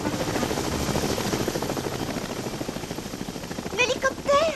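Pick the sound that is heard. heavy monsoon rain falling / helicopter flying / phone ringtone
helicopter flying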